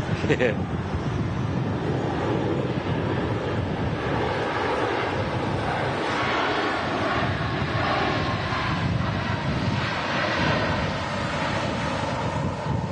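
A Ryanair Max airliner touches down from Dublin in strong storm wind at Manchester Airport, a broad continuous roar of engines and gusting wind buffeting the microphone throughout, with people talking over it.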